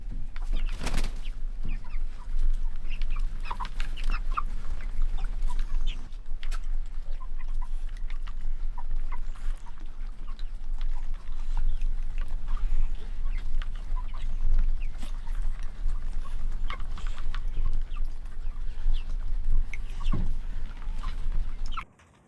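Meat chicken hens cluck and murmur softly over a steady low hum on pasture, with scattered scratchy pecking sounds and brief louder clucks, no voices.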